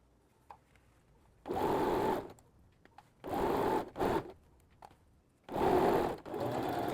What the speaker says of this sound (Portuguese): Retrocesso sempre no início e vou costurar.